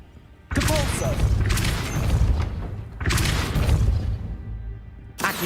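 Depulso spell cast in Hogwarts Legacy, heavy booming blasts with crashing, whooshing tails, three or four close bursts in a row separated by brief quieter gaps.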